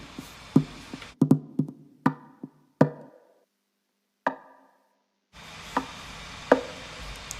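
Hollow wooden knocks on a guitar body come in irregular, close hits with short ringing decays and pauses in between.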